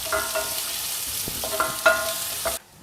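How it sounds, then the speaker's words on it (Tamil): Garlic and ginger hit hot oil already holding cinnamon, cardamom and cloves, sizzling steadily while a spoon scrapes and clicks against the pan a few times before the sound cuts off abruptly. "அடுத்தது பூண்டும் இஞ்சியும் இருக்குல்ல,"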